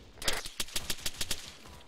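Heavy small-arms fire in Arma 3, about ten sharp, evenly spaced shots cracking out in quick automatic succession, fairly close and loud against a quiet background.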